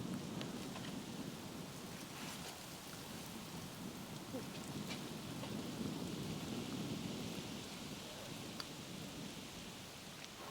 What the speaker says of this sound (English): the rain was hitting the painting as I was painting